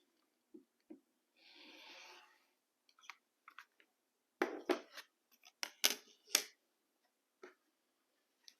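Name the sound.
scissors cutting paper for a maple leaf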